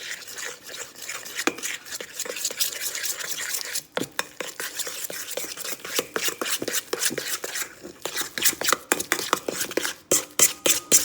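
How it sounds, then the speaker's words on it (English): A spoon mashes a cassava mixture in a bowl, giving a run of close, rapid scraping and clinking strokes that grow more rhythmic and sharper toward the end, with no voices. "I'm just gonna use my spoon to mash it all up, incorporate it together"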